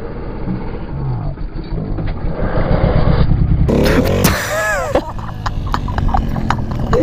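A moped engine revs hard during a wheelie attempt, its pitch swooping up and down in a short burst midway through, over a steady low drone and some background noise.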